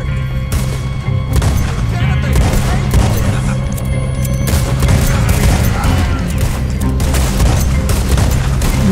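Red Dead Redemption 2 gunfight, with rapid volleys of gunshots and booming blasts cracking repeatedly and loudly, nearly nonstop across the whole stretch.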